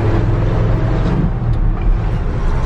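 A 1965 Ford F100 pickup with a freshly fitted clutch drives along, its engine a loud, continuous low rumble heard from inside the cab with no voices.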